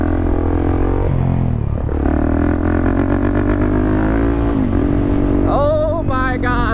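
A supermoto motorcycle engine revs hard outdoors during wheelies, a loud, close, buzzing drone that dips and climbs, then surges upward in sharp throttle blips near the end.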